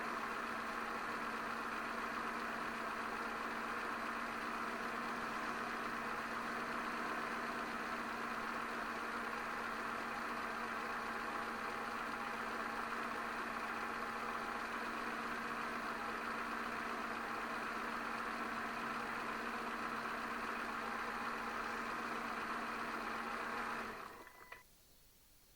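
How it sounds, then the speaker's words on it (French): A Peugeot/Citroën PSA 1.4 litre 75 hp petrol engine idles steadily after an oil change, a constant close hum with no talk, cutting off abruptly near the end. "on laisse tourner 30 secondes, 1 minute, tranquillement au ralenti"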